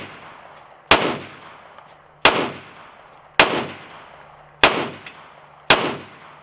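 Five loud gunshots ring out singly at intervals of roughly a second and a half, each a sharp crack followed by a short decaying echo, with no voices between them.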